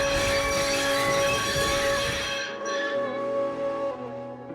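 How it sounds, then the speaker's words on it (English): Train brakes come on with a loud grinding screech and sustained metallic squeal, heavy rumble fading midway as the train slows, leaving a lingering tonal whine. "Just then, the brakes on the train came on."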